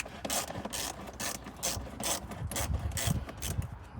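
A hand ratchet with a 10mm socket loosens a bolt on a Toyota Sequoia during an engine air filter replacement, rapid close-up clicking in repeated strokes, each a burst of pawl ratcheting with rubbing in between.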